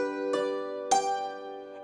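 Higher-octave arpeggio notes sound as two crisp, sustained tones struck in succession, each with a sharp attack and ringing overtones, heard alone and up close.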